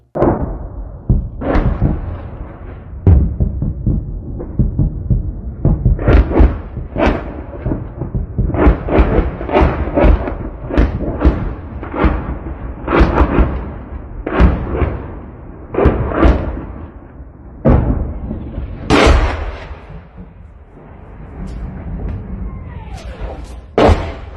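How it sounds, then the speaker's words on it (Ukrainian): Repeated heavy booms and thuds of Russian artillery strikes on Kherson, Ukraine echo one after another, some sharp and some rumbling, loud and continuous throughout like distant shelling. "Херсон прокинувся від вибухів, які лунали в усіх районах міста."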